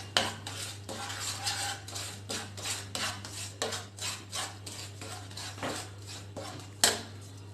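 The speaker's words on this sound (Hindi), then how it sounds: "अब हम इसमें 2 स्पून दाबेली मसाला डालेंगे, इसको अच्छे से चला लेंगे।" Dabeli masala being stirred in hot oil in a frying pan: a spoon scrapes and clinks against the metal pan in a steady rhythm of repeated strokes, close and fairly loud, with a constant low hum beneath.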